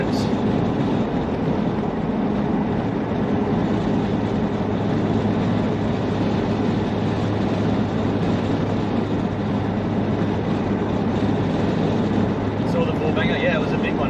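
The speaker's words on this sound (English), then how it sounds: "They're like coal trains out here." A long coal train rolls past at an Outback hotel with a steady, broad rumble and rattle that fills the whole stretch, with voices talking over it.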